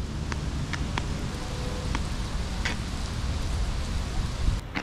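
Steady rain falls outdoors near the Oblation statue and an amphitheater on a campus loop, a continuous close wash of hiss with occasional brief drop taps and no voices.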